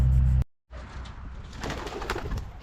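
Pigeons coo low and close in a farm barn that houses a worn-out hay baler, a short burst cut by a brief silence before rustling, fluttering barn noise resumes.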